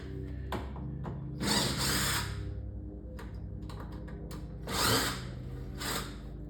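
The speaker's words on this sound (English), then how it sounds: "But we're going to use the drill." A power drill removing screws from a Neo Geo arcade cabinet whirs in several short bursts, stopping and starting between them, close up with faint clicks in the gaps.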